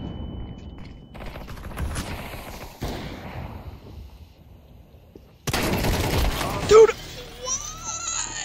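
Shotgun blasts in Counter-Strike 2: a few sharp, heavy shots, the loudest arriving late, set against game noise and a voice talking.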